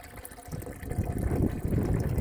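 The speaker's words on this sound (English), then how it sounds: "The water going in, that water level is staying the same." Water gushes and gurgles steadily into self-watering raised garden beds, close and fairly quiet, growing slightly louder as it flows, with no talking.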